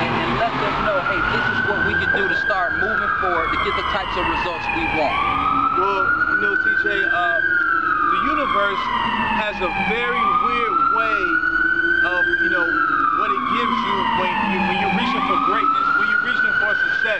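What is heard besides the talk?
emergency vehicle sirens in downtown Atlanta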